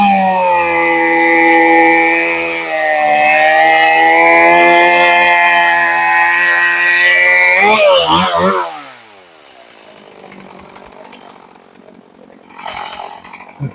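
A chainsaw fitted with a hand-repaired Pico chain trims the end of a piece of softwood, running loud and steady under load for several seconds, then the revs drop away to a quieter idle with a short burst near the end.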